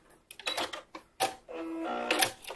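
A sewing machine stitching a lined swim top strap runs in short bursts, with clicks and brief pauses between runs of stitching, close by and fairly quiet.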